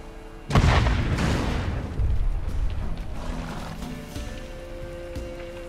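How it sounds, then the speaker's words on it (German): In The Witcher 3, a sudden deep boom erupts, followed by a rumbling, crackling decay and a second lower thud, fading into a quieter hum. "Was war das für eine Explosion?"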